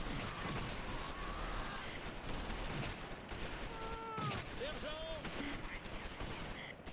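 Gunfire crackles in the Close Combat strategy game, a steady mix of rifle and machine-gun bursts over a noisy battlefield bed, with brief descending whistle-like tones partway through.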